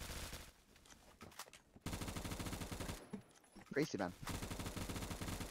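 M16A3 gunfire in a video game, rapid bursts of shots in several clusters separated by short pauses, with a player's voice speaking briefly between them.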